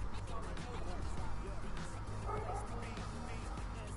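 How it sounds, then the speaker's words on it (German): Neighbours' dogs, one of them a German Shepherd, barking and yipping repeatedly at a steady distance, mixed with a constant low hum and some voice in the background. "Aber die bellen halt zu viel."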